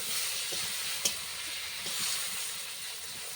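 Mango pieces fry in a pan with a steady, close hiss and sizzle, broken by one brief clink near the start.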